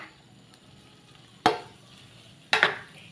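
A spatula scrapes and stirs sliced patola and eggs in a pan over a faint background sizzle, with two sharp, distinct stirring strokes about a second apart.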